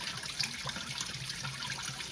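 Coolant pours from the engine drain-bolt opening of a Porsche 928, a steady, fairly faint trickling stream running continuously without pause.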